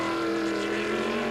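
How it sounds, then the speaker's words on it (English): Historic race cars on track, Porsche 935s and Jaguars, a sustained loud engine drone passing close by with a steady, unbroken tone. "Emerson Fittipaldi moving up the field, about to pick off another Porsche 935"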